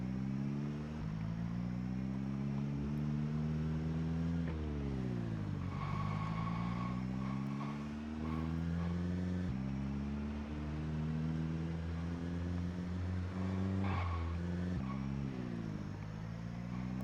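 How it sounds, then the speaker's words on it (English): A vehicle engine runs with its muffler removed and throttles up again and again, giving loud, harsh revs that rise and fall over a constant rumble, with no talk. "we did take the muffler off this one, so he's as loud as he can possibly be"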